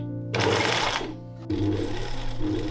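Sewing machine running in two short bursts while hemming layers of tulle for a Bridgerton-inspired dress, a close, loud motor whir with a brief dip in the middle.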